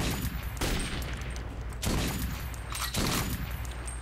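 Gunfire in Metro 2033, a tense underground shooter: three heavy volleys of shots burst out at roughly one-second intervals, loud and close, with reverberant tails between them.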